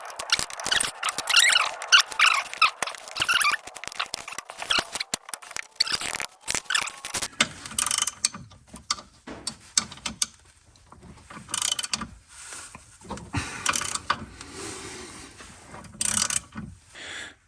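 Ratchet wrench clicking in bursts while bolting a custom tow hook into the front subframe of a C4 Corvette, close metallic ratcheting with short pauses and clanks.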